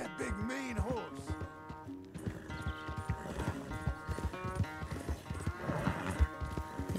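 A horse runs with rapid clopping hooves in the Red Dead Redemption 2 video game on a ranch, mixed with a whinny-like cry, music and game sounds throughout.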